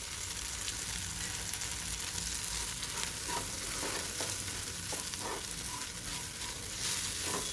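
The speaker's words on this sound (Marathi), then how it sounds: "आता इथेच मी किसलेलं सुकं खोबरं घालून घेणार आहे।" Grated dry coconut frying in spiced oil in a pan, a continuous close sizzle with scattered scraping stirs and small pops throughout.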